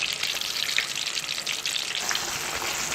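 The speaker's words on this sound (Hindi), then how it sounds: "बस अब आप इसको डीप फ्राई कर लें" Chicken pieces deep frying in hot oil, a steady crackling sizzle with dense bubbling pops, close and continuous, no talk.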